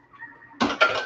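A spatula scrapes and knocks inside a Thermomix mixing bowl in two short bursts, close and fairly loud after a quiet start, with no talking.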